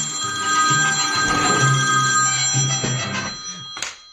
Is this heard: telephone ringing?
yes